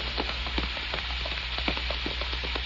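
Steady rain falls at night as a radio drama effect, a constant hiss with scattered patters and drips, fairly close and even throughout, with no voices.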